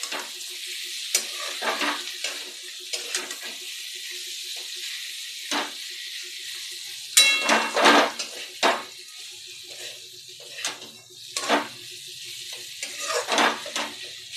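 Kakrol (spiny gourd) fries in oil in a pan, a soft sizzle under repeated scraping stirs and clinks of a utensil against the pan, in irregular bursts.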